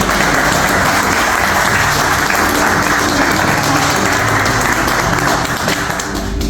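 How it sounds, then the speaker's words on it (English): Applause fills a church gathering at a dedication of three young children, a dense, steady wash of many hands clapping close by, continuous and loud with no talk on top. "Can we give them a hand of applause?"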